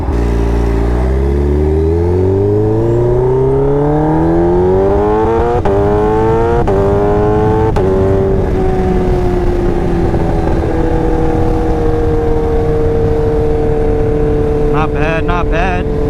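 A Kawasaki Ninja H2 motorcycle fitted with new gearing accelerates hard, its engine note climbing through several quick upshifts, then settling into a steady loud drone with wind rush; a rider's voice briefly breaks in near the end.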